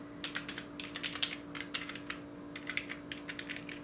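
Fingers type in bursts on an RGB backlit keyboard that imitates mechanical keystrokes, giving rapid light clicky taps close by, with short pauses between runs and a steady hum underneath.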